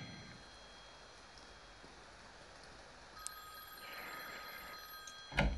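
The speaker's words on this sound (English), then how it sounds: "You actually hear the phone ringing." A telephone rings in the horror game Silent Hill: Rebirth, a faint, distant bell-like ring emerging after a quiet stretch of rain-like ambient hiss, rising slightly toward the end.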